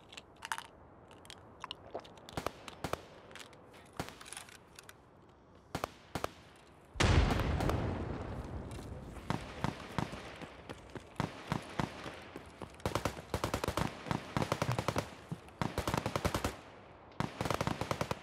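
Gunfire from distant PMC squads clashing at a building in the game Escape from Tarkov, PvE mode, on the Transit map near Polikhim: scattered single shots, then a loud burst and rapid automatic volleys crackling on in uneven clusters.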